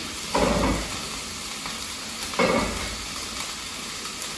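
Food sizzling and frying in a pan in a home kitchen, a steady close crackle with two brief louder surges of sizzle as the contents are stirred.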